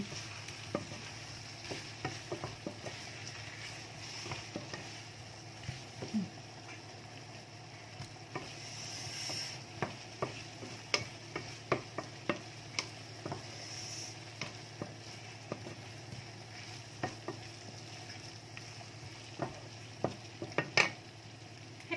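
Cabbage sizzles steadily as it stir-fries in a hot pan while a utensil scrapes and taps, stirring in irregular clicks, close and moderately quiet.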